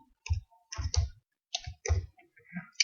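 Computer keyboard keys click in short bursts, a handful of crisp close taps spaced irregularly as a word is typed, with near silence between them.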